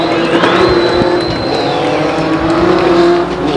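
Race cars roar around the oval during a heat race at Stockton 99 Speedway, a continuous loud engine drone with a rising whine as cars pass, no voices over it.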